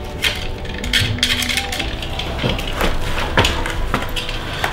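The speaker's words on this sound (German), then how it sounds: "Aber dazu werde ich wohl noch einige Wurzeln wegschneiden," A dull knife cuts and tears through the roots of an elder tree being styled as a bonsai, giving a continuous run of close crunching, splintering and scraping with sharp woody snaps.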